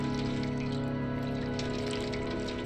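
Steady watery hiss of rain in a video game about a stray cat, layered over a low humming tonal background, constant and fairly quiet with no speech.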